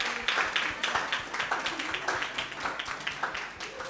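An audience at an awards media launch applauds, with steady overlapping claps continuing for several seconds at moderate distance.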